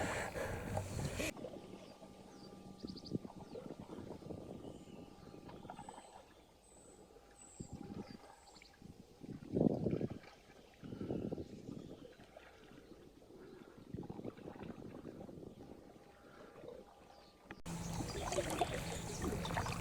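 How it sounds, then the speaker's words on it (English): Canoe paddling along the Pocklington Canal, with soft rhythmic water swishes and drips from paddle strokes close by, fairly quiet, with a few louder splashes along the way. "I'm paddling right in the centre of the channel really here"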